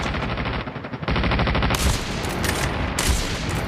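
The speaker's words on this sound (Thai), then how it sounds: "เอาสนายยิงเลย" Sniper rifle fire in Call of Duty Mobile comes as loud, close rapid gunshots and bursts, continuous across a short stretch of game action with no talking.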